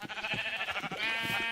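A Minecraft sheep bleats in quick wavering pulses, then holds a longer, steadier bleat, close and clear with no talk over it.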